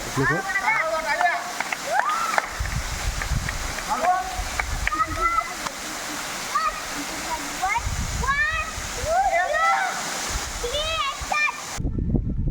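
The Tulshi waterfall near Mandangad in a forest setting gives a steady broadband rush of falling and splashing water throughout, with people talking over it and a sudden cut to near silence at the very end.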